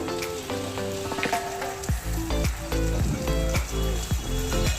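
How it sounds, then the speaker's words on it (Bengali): Ginger-garlic paste with ground cumin and coriander sizzles in hot oil in a pan for a village-style potato and soybean curry, a close, continuous crackling fry with stirring scrapes throughout. "সমস্ত মশলাটাকে আমি ভালোভাবে কষিয়ে নেব যতক্ষণ না তেল ছাড়ছে"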